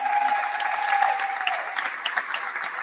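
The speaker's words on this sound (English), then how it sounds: "Give yourselves a round of applause for that" Crowd applause at a Kari Lake political rally, a dense wash of clapping and cheering from a large audience, fairly even throughout with a faint sustained tone running beneath.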